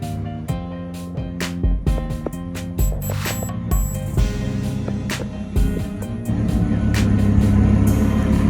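A Ferrari race car engine at an Italian motor gathering, loud and near, with sharp blips and revs that build into a sustained high roar toward the end.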